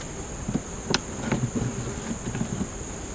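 Honeybees in a sparsely populated beehive box give a faint, low buzzing under a steady high-pitched insect whine, with a few soft knocks and ticks close by.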